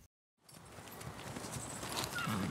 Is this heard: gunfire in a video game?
no